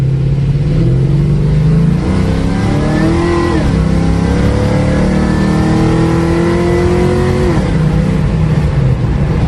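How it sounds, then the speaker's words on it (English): A 1969 Chevrolet Camaro pro-touring car with an LS2 V8 pulls away at quarter throttle, its close, loud engine note climbing steadily in pitch, easing briefly, then rising again through a gear. "That's about quarter throttle on this car. Trying to keep the tires from breaking loose."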